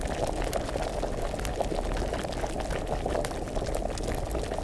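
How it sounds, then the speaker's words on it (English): A potion boils in an alchemy cauldron in the video game Kingdom Come: Deliverance, a steady, dense bubbling and gurgling that stays loud and unbroken throughout, heard alone without talk. "Let's keep it boiling."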